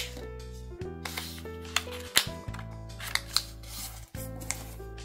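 Sheet of origami paper being folded into a note, with close crisp creasing, rubbing and sharp crinkles repeating over several seconds, with no talk.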